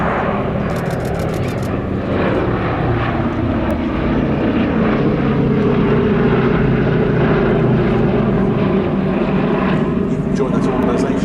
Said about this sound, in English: We see the bomb doors on the B-17 open on this pass, and also smoke on to simulate a damaged engine